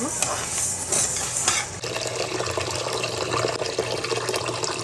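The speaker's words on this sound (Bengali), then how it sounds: "ডালটা একটু ধুয়ে নেব" Running water pours and swishes as lentils are rinsed, a steady close splashing wash that settles into a continuous flow.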